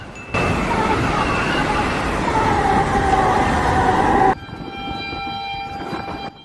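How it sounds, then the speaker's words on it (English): A fast-moving train rushing past close by, a loud sustained roar with a horn-like tone that cuts off abruptly, leaving a quieter hum and faint talk afterward. "a man narrowly avoided being struck by a fast-moving train"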